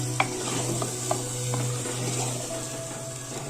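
Mustard greens saag stirred and sautéed in a clay pot, giving a steady low sizzle with a few light scraping clicks of the spoon against the pot, close and alone.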